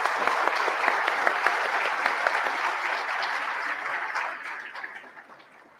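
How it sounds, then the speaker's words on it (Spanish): Warm, sustained applause from a congress audience honoring a speaker, dense clapping that holds steady for four seconds and then fades to a few scattered claps. "Fuertes los aplausos para nuestro subgerente."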